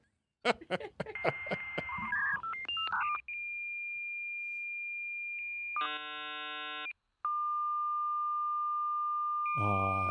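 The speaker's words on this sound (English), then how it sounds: "I think it was a 56K modem, if I'm not mistaken." A 56K dial-up modem connects: dialing tones come first, then a long steady tone, a block of harsh stacked screeching, and more sustained whining tones, all loud and close with no speech.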